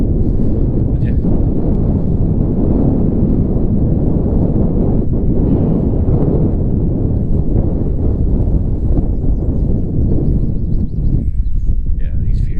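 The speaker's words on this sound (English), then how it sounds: "if you can hear me over this wind" Strong gusting wind hammers a handheld microphone at the Carrowmore megalithic tombs in County Sligo, a loud, steady rumbling buffet that fills the whole clip, with faint indistinct voice traces beneath.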